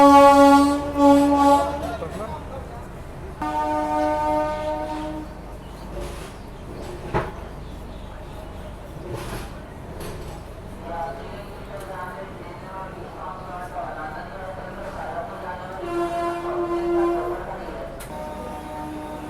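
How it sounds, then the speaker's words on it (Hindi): A Rajdhani train pulls into Patna Junction station with a long horn blast at the start and another later, wheels and carriage rumble and clatter beneath, and a voice talks intermittently over the railway noise. "गाड़ी अपनी पटना जंक्शन रेलवे स्टेशन पहुँच रही है।"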